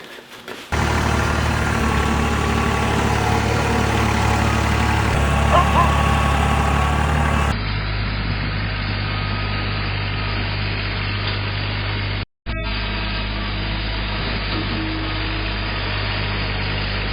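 A tractor engine idles steadily outdoors in deep snow, a close, constant low hum that continues unbroken apart from one very short dropout.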